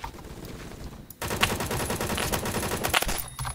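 Rapid bursts from a battle rifle in Phantom Forces, a sustained run of loud, close shots starting after a brief quieter lead-in, with quieter shooting underneath before it.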